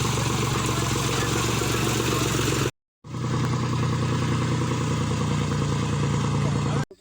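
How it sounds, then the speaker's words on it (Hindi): A tractor arrives in a cotton field to be loaded with picked cotton, its engine a loud, close, steady rumbling clatter that cuts out briefly, then resumes. "सामने जो आ रहा है वो ट्रैक्टर है"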